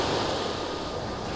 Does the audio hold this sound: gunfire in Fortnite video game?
no